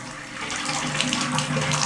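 Water runs steadily from a bathtub tap through newly installed copper piping in a house, a continuous close splashing rush with no talk.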